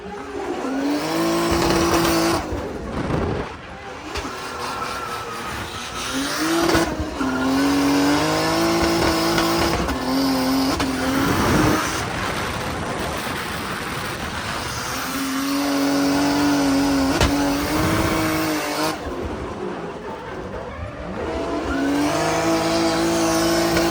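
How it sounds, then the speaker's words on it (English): A BMW drift car's engine revs hard and falls repeatedly while tires squeal in long, loud bursts, close up and continuous throughout. "I did get a ride along with Dylan Hughes in his BMW drift car"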